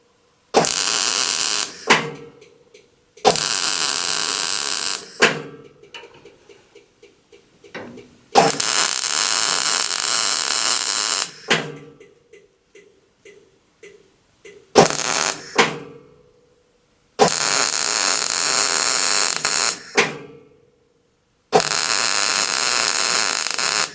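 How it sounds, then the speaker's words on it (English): Welding inside a panel of a Żuk van, laying heavy beads of filler metal. Several long, steady, harsh buzzing runs of a few seconds each are broken by short pauses and softer handling noise, close-up with no talking. "I'm gonna weld up in here."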